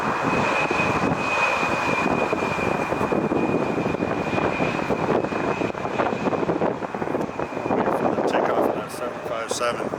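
Airliner on its takeoff roll at LAX, a loud continuous engine roar with wind buffeting the microphone, and people talking faintly over it.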